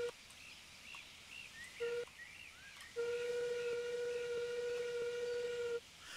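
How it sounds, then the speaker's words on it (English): Steam whistle of the Penrhyn Ladies steam locomotive: a short toot near 1.8 s, then one long steady whistle of about three seconds, loud and close, over a low engine hiss. "What's a short whistle like? Bit of a disappointment."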